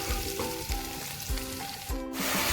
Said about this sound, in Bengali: আদা বাটাটা দিয়ে দেবো দিয়ে একটু নাড়াচাড়া করে নেবো